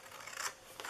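Scissors snip through a paper sentiment strip for a birthday treat box in one short, quiet cutting stroke, close up and alone.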